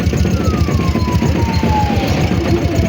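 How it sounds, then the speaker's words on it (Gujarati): An ambulance siren wails with a slowly falling pitch over a loud, rumbling engine, steady and close throughout. "આગળથી એમ્બ્યુલન્સ આવે છે"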